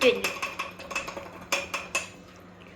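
A whisk beats a mixture in a bowl, producing quick, irregular metallic clinks and taps against the side that thin out toward the end, with a voice briefly present.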